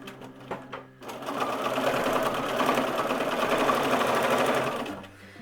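A sewing machine free-motion stitching foreground shrubs and grasses on fabric, running in a steady, loud continuous whir after a short pause and a few start-up stitches, then winding down at the end.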